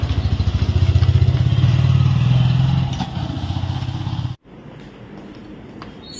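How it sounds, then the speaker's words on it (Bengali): A motorbike engine runs close by with a steady low rumble, then pulls away and fades abruptly, leaving quiet background. "আস্তে চালাবে বাইক"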